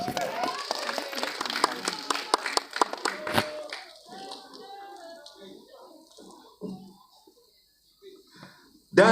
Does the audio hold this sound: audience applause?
yes